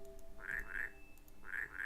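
Frog in the Rusty Lake Paradise video game croaking four times in two pairs of short, bright croaks, clear and close over a soft background hum.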